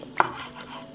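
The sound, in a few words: knife slicing cooked chicken sausage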